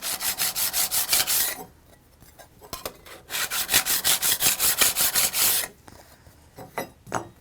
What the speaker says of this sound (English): just run the scraper on the file to remove that